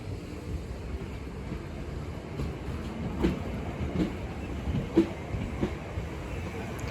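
A Southern train pulls out of Sydenham station with a low, steady rumble. Rhythmic wheel clacks come through at medium distance and grow a little louder midway.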